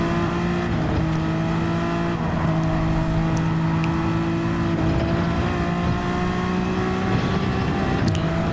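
Racing car engines in a video game, including a Toyota and an old-style Honda NSX, droning loudly with steady high-pitched tones that rise and fall as the cars shift and brake, with faint tire noise.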